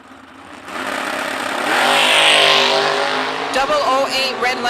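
Pickup trucks at a drag strip, engines rumbling at idle and then revving hard into a loud launch, close by, with an announcer's voice over the engines.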